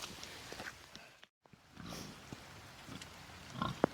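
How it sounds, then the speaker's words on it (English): Hungry pigs kept in an upstairs pen with empty feed bowls, grunting in a low, continuous rumble over rainy farm ambience, with a sharper squeal-like grunt near the end. "Pigs are up here. They're not too happy they have empty bowls"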